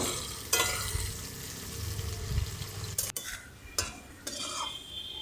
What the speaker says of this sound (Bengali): এবার ওই তেলেই পেঁয়াজ কুচি দিয়ে দিলাম। পেঁয়াজটা এবার যতক্ষণ না গোল্ডেন ব্রাউন হয় ততক্ষণ ভেজে নেব।